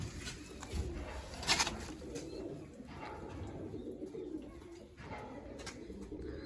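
Kalsire pigeons coo softly in a loft, low repeated calls rising and fading over a light background hum, with no voices.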